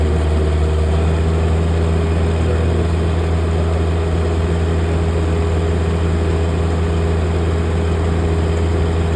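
A tractor engine runs steadily at a farm during paddy unloading, a constant low droning rumble with a thick, unchanging hum and no pauses or voices.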